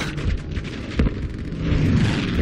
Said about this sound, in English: Did the grenade not just blow up right there?